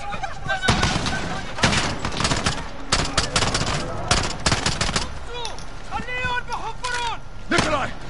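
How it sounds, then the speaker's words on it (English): Bursts of automatic gunfire and single shots from the Modern Warfare video game, loud and close, with dense rapid volleys and brief pauses, while voices talk over the battle. "The gunshots, of course."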